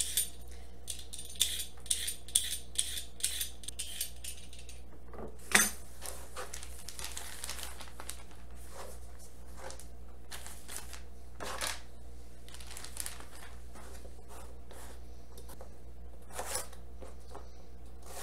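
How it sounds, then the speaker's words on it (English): Three carrots are peeled with a peeler in a home kitchen: a run of soft, close scraping strokes, some quick and some drawn out, over a low steady hum with no talking. "Using 3 carrots. I'm just peeling them."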